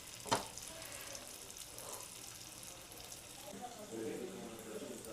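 Pumpkin gargi fritters fry in oil over a medium flame, a steady broad sizzle with a sharp click near the start and bubbling that swells toward the end.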